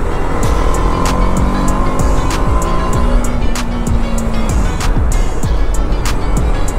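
A BMW G310RR motorcycle on a winter Spiti ride runs steadily, its engine droning loud and close with shifting tones and sharp ticks, and no talk over it.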